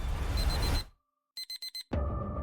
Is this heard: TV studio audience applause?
no